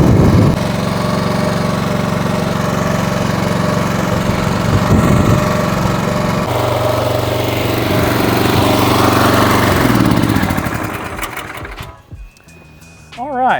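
Small engine on a ride-on lawn spreader runs steadily at close range with a constant mid-pitched drone, then cuts off near the end, leaving quieter clicks and handling noise.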